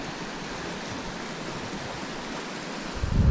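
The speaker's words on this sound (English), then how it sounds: "I believe this is Mount LEMORAY Creek" Mount Lemoray Creek near a rail bridge rushes steadily in a broad, even wash of flowing water, close and constant, with a brief louder thump near the end.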